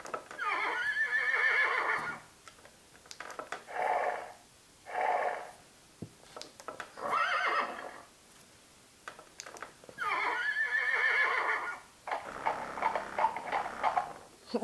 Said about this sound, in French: il va faire des bruits de cheval